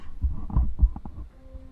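A Kresge pipe organ's voix celeste stop sounds in a few sustained low chords, its slightly detuned ranks beating against each other in a soft wavering whoosh before settling into a quieter held tone.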